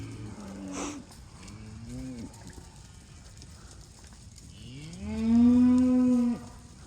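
Mashona cross cattle, including a heifer, low in a pen: a couple of short, soft moos come first, then one long, loud, close bellow swells up and cuts off.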